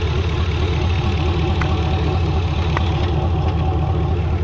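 A V8 LS engine swapped into a 1999-2007 Silverado/Sierra truck idles steadily while warming up, a low throbbing drone with a rough, even rhythm and a couple of faint ticks, close and continuous.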